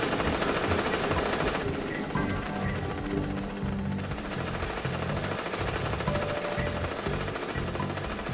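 Big drilling ball machines in the Jak and Daxter video game hammer away with a rapid, jackhammer-like rattling that pulses in quick bursts over a dense mechanical din, loud and continuous for about eight seconds.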